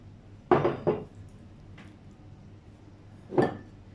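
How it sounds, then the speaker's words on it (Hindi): Raw chicken pieces dropped into an open bowl, a few close clattering bumps and clinks against the dish spread over several seconds, with quiet pauses between. "सबसे पहले खुले बाउल में चिकन डालेंगे"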